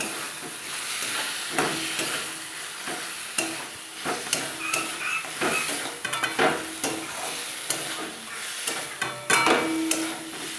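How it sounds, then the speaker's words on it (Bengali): Pieces of meat fry in a pan of browned spice paste, with a constant sizzle broken by repeated clattering scrapes of a spoon stirring the meat, close and busy throughout. "এবারে মাংসটা দিয়ে দেবো, মাংসটা দিয়ে নাড়তে থাকবো।"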